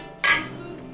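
Wine glasses clink together in a toast: one brief, bright chime that rings out clearly and then fades quickly.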